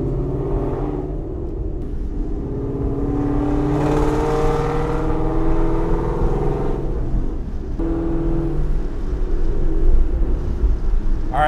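A car running on race gas with freshly flashed tuning and orange spark plugs drives along, its engine rumbling steadily and loudly throughout, with rising revs near the end and no talk.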